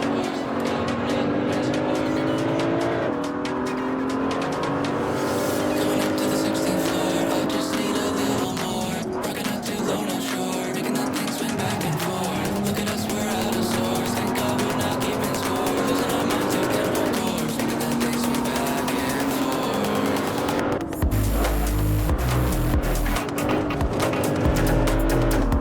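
A race car in the Assetto Corsa racing game, with a loud, continuous engine note that climbs and drops through gear changes. Tires squeal through a chicane, and a sharp change in the engine sound comes near the end.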